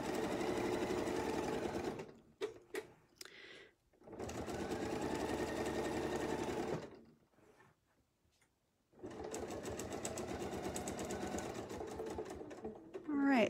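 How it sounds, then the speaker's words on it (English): A sewing machine stitches a Baptist fan quilt design in close, loud bursts of rapid mechanical whirring that stop and start, with quiet pauses in between. "So you can see I don't quite have it, so I'll stitch just a few more."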